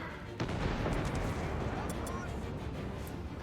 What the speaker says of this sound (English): I can grenade those guys for now